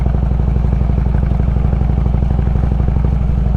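An 800-pound Harley-Davidson Road King motorcycle ridden on dirt and pea gravel, its engine a loud, close, steady low rumble with an even throbbing pulse throughout.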